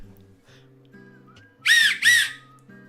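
Two short, shrill whistles blown through a bottle cap ring out close and loud in quick succession, piercing and warbling, after a quiet stretch with faint background hum.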